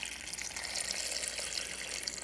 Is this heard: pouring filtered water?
yes